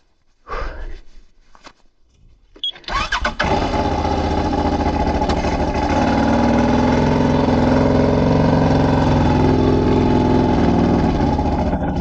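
An off-road vehicle crawling through a forest of fallen trees in low gear with all-wheel drive engaged: its engine starts after a few knocks, then settles into a steady, loud, close drone.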